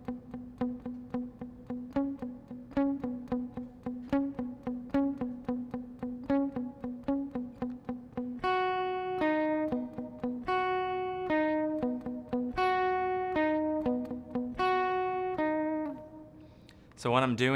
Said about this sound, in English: I'm doing a little bit of palm muting, and I'm basically plucking 16th notes